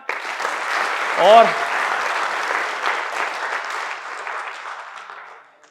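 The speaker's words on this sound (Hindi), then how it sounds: "तो आप सभी के लिए जोरदार तालियां" Students at a school career counseling seminar give loud, sustained applause that fades out at the end. A voice briefly speaks over the start.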